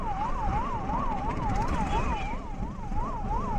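An ambulance siren wails on a highway in Andhra Pradesh, a fast, regular up-and-down tone repeating about twice a second, moderately loud over the steady rumble of passing traffic.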